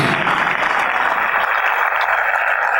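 A church congregation claps together in a dense, steady, loud wash of applause at a worship service, sustained throughout with no speech over it.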